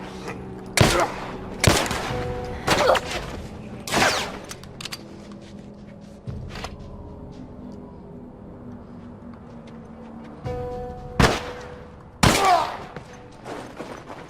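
Gunfire in The Last of Us, a series of loud, sharp shots spaced a second or so apart, then a quieter stretch of rumbling ambience before two more close bursts near the end.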